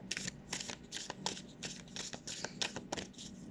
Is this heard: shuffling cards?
yes